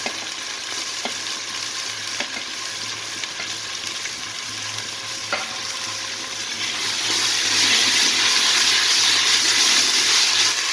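Chopped tomatoes added to ginger garlic paste frying in a pan for mutton biryani, a constant sizzle with a few stirring clicks that swells into a louder, wetter hiss partway through.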